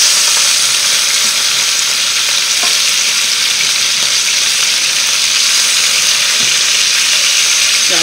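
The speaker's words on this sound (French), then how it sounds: "Là, on va retourner notre viande." Pieces of coconut curry chicken fry in a hot pan just after being turned over, giving a loud, continuous sizzle close up with occasional faint scrapes.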